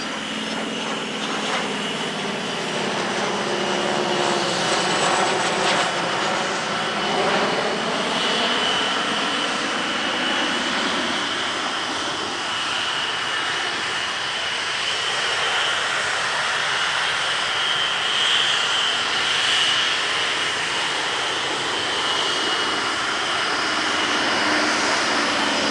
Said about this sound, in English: A third and final legend formation showcased training aircraft past and present.